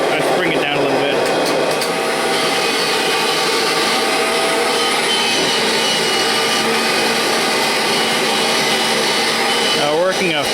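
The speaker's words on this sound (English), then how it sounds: "See, it's sucking the carpet right up." A Kirby Generation 5 vacuum cleaner runs loud and steady as it sucks at carpet, a constant roaring whine that holds throughout, with a brief shift in pitch near the end as the machine is adjusted.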